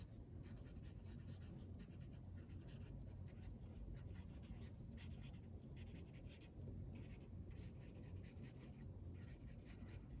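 Pencil scratching steadily across paper while writing the same lines over and over, a continuous close rasp with small breaks between strokes and no voices.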